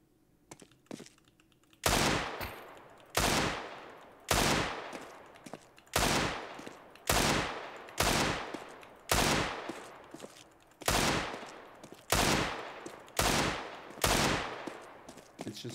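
Desert Eagle pistol shots ring out in Counter-Strike, about fourteen loud, sharp reports fired at an even, unhurried pace roughly a second apart, each trailing off in a short echo.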